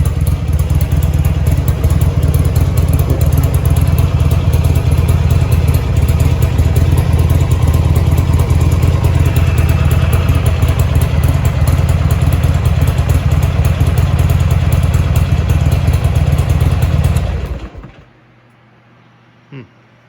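A Buell XB9R Firebolt motorcycle engine runs loud and close with a rough, rumbling idle for most of the stretch, then cuts off abruptly near the end, leaving quiet with one small thump.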